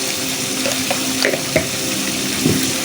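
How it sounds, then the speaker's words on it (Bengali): Rui fish and a fish head sauté in spice masala with toasted coriander and cumin powder in a pan, giving a dense continuous sizzle with occasional stirring knocks close by, with no talking. "এখন মাছটাকে আমি সুন্দর করে কষাবো"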